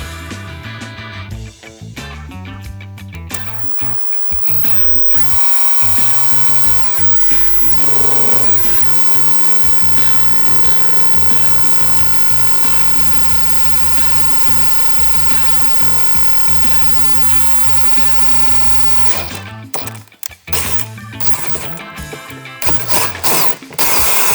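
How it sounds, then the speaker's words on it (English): A power drill bores a 7/16 inch hole in a Harley touring motorcycle saddlebag, a sustained loud whirring grind for about fifteen seconds, framed by brief start-and-stop bursts and handling clatter, close up, no talking. "after you got your hole drilled in your bag"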